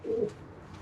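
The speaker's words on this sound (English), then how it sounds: "There's another cracking wee pigeon." A pigeon in a freshly cleaned loft gives one short, low coo close by, followed by quiet room noise.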